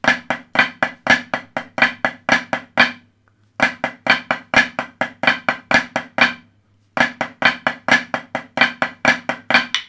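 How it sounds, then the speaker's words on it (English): Crisp snare drum playing fast flam taps and accented flams in repeated bursts, separated by two brief pauses, close and loud. "So we get flam tap, and flam accent, flam tap, stop."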